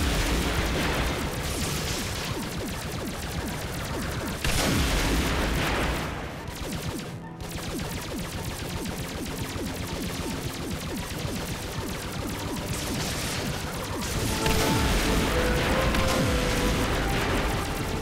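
Starship phaser fire in a Star Trek video game, made up of loud, dense bursts of weapon blasts and booming impacts that keep coming continuously, with a brief lull midway before building again.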